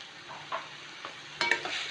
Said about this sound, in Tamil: மஞ்சள் போட்டு கொஞ்ச நேரம் நல்லா வதங்க விடுவோம்.